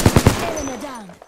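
Flatline assault rifle from the Apex Legends video game firing a quick burst of three rapid shots, followed by a fading mechanical ring and whine as the burst dies away.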